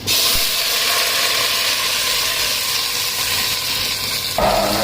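Cumin seeds and onion hitting hot oil for an Andhra-style brinjal curry, a steady, loud hiss and sizzle close up, ending with a clunk of a utensil near the end.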